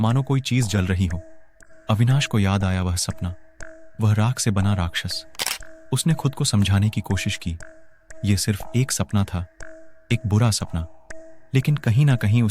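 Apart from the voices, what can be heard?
No distinct noise like a dog, phone or traffic.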